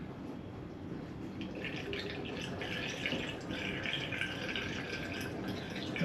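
A dark, chocolate-coloured liquid mixture pours into a batch of home-brewed cider made from home-grown apples and Victoria plums, a steady close splashing trickle that builds slightly over several seconds.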